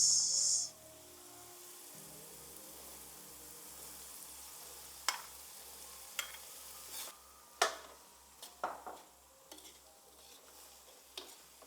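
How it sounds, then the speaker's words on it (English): Beans stir-fried in a pan, a soft steady sizzle with a low hum beneath, broken by sharp scraping and clinking strokes of a spoon against the pan that grow more frequent toward the end. "All you do at this point now is just stir."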